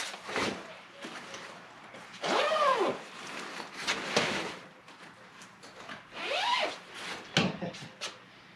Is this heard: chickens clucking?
no